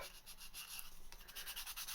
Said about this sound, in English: a bit of a sanding to produce that rough surface for the key, for the glue